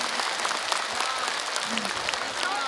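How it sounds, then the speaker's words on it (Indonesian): Indoor audience at an Islamic religious gathering breaks into sustained applause, steady dense clapping throughout with faint voices mixed in. "Tepuk tangan dulu untuk semuanya."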